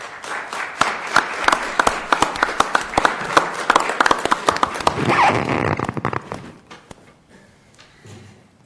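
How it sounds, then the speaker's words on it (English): Audience applause welcoming city council candidates to the dais at a candidate forum, steady clapping from a crowd that swells, then tapers off into a quiet room. "welcome them with applause"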